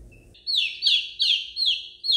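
Baby chicks chirp in a string of high, bright peeps, about five evenly spaced calls close by, each one sliding downward in pitch.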